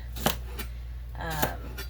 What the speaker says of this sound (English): I'm going to just continue chopping this up